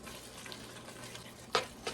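Paprika stirred into goulash of beef and macaroni in a pot, a soft, faint scraping and sizzling bed with a sharper spoon knock near the end and a lighter one after it, and no talking.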